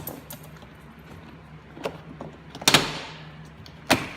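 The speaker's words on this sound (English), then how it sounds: "It has clips, and we'll just pop the door off." A few sharp plastic pops and snaps as door panel clips release on a 2005-2007 Ford Freestyle, two louder cracks standing out among smaller clicks and rustling handling noise.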